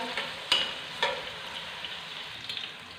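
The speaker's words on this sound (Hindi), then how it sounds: "प्याज हमारा फ्राई हो रहा है" A soft, steady sizzle of onions frying in a pan, with a few brief clinks or stirring taps over the crackle.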